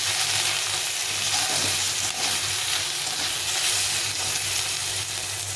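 Hilsa fish head fries with turmeric and salt in a pan, a steady, close sizzle and crackle of hot oil with occasional stirring scrapes, continuous and even, no one speaking.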